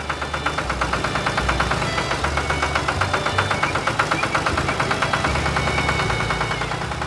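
A tractor and an excavator run together at a farm, a loud, close diesel rumble with a steady rhythmic knocking pulse that holds throughout.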